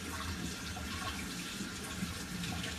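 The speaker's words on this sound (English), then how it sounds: "Let me just wash off my hands." Tap water runs steadily while hands are rinsed during kitchen food prep, a continuous close splashing hiss that stays even for the whole stretch with no talking.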